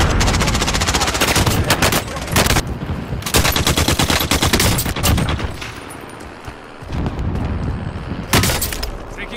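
Legendary M16 rifle fire in Warzone Cold War, loud close bursts of rapid automatic shots broken by short pauses, with a single sharp report near the end.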